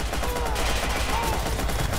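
Sustained gunfire in the video game Watch Dogs Bad Blood, a dense, continuous burst of rapid shots with no gaps, loud and close, filling the whole stretch.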